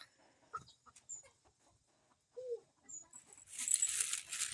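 Chickens clucking close by in short, scattered calls, with a few brief squawks and a burst of rustling, flapping-like noise toward the end; no talk.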